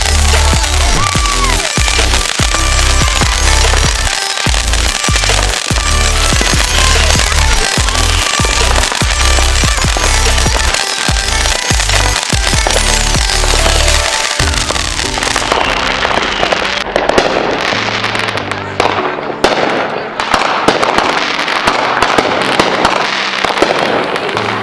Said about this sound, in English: 2 fireworks. That's cool.